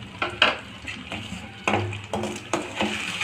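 Tomato paste being sautéed in a pan for a soya chunk gravy, with soft sizzling under several sharp scraping and clinking stirs of a utensil against the pan, close and fairly quiet.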